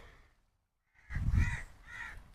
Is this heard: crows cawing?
yes